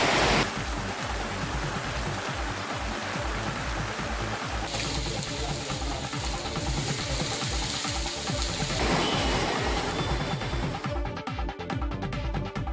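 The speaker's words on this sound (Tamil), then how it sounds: "கனமழையால் ஒத்தக்கடை அருகே உள்ள யானைமலையிலிருந்து மழைநீர் அருவி போல கொட்டியது" Rainwater from heavy rain pouring down Yanaimalai hill near Othakadai like a waterfall, a dense, constant roar of rushing water, loud and unbroken, with the tone changing slightly partway through.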